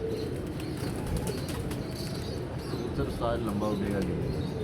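Pigeons at a loft coo softly in the background while people talk over them, with a brief rustle of wings and a few chirps mixed into steady outdoor noise.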